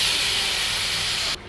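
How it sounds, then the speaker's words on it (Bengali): Loud, close hiss and sizzle as water is poured onto potatoes frying in a pan, a steady spitting roar that drops away sharply at the end. "আলুটা কষিয়ে নিয়েছে, জল দিয়ে দিই।"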